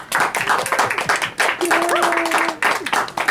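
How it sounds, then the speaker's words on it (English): Small group in a radio studio claps for Jumbo Racket, with close, uneven bursts of hand claps mixed with talking voices. "Let's give him a round of applause."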